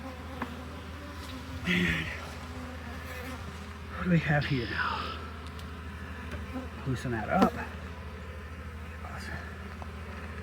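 Honey bees from a swarmed hive buzz steadily close by while a beekeeper talks and handles the frames, with brief louder bursts of activity.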